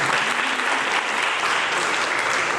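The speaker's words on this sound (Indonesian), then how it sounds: "tepuk tangan" An audience claps steadily at a Youth Pledge Day celebration held at Kodam Jayakarta, a dense, even wash of applause sustained and fairly loud throughout, with no talking over it.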